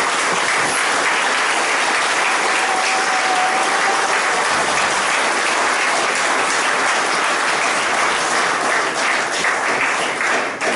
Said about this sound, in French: je vous demande s'il vous plaît de les applaudir fortement